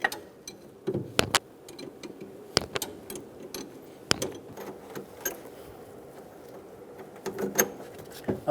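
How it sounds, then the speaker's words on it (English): Ratcheting 15mm socket wrench loosening the nut on the upper steering shaft bolt of a 1988-1999 GMC K1500 with a 5.7L V8, giving scattered sharp metallic clicks and ticks over a quiet workshop background. "Using a 15mm socket, we're going to remove the nut for the bolt at the top of the steering shaft."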